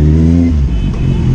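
Kawasaki Z800 motorcycle engine revved hard on the throttle, a loud close-up roar rising and then settling into a rough, uneven idle, with no talking.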